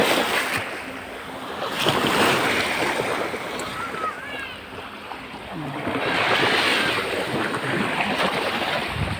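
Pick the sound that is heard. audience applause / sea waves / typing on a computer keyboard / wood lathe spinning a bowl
sea waves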